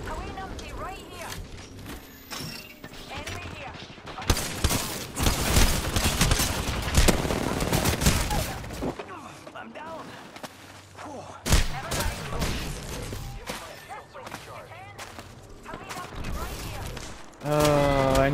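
Gunfire in an Apex Legends Arenas match, rapid bursts of automatic weapon fire and shots mixed with game effects, loud and dense over most of the stretch, while voices talk over it.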